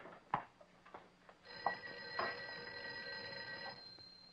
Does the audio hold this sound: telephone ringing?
yes